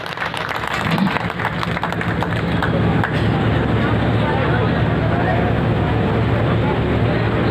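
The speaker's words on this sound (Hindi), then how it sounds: "जोरदार ताली बजा के दिखा दो एक बार, जोरदार ताली इन सब के लिए" Loud, dense applause from a large crowd at a public political gathering, sustained and steady throughout with a muffled, roaring quality and no clear individual claps.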